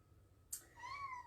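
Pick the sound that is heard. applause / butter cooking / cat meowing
cat meowing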